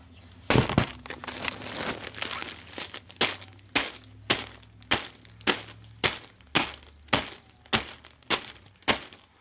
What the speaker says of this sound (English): Oh look, cans are falling on it.